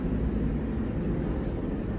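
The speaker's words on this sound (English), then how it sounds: "there's like a helicopter that like flies over my apartment" A helicopter flying over an apartment makes a steady, low, rumbling drone that fills the room continuously, fairly loud, with no talking.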